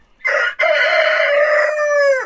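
A single loud, close rooster crow, a brief opening note followed by a long drawn-out call that falls off at the end.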